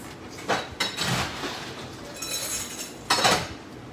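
Ice cubes drop into a cocktail glass in a few clinking, rattling hits against the glass, close by and moderately loud, with a short scraping settle between impacts and no talk.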